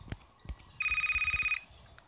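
A phone rings in the video game Shade of Violet, one bright electronic trill of rapid pulses lasting under a second, set among soft low thumps, with no voices.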